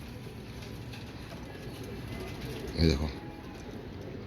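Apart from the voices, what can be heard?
pigeons cooing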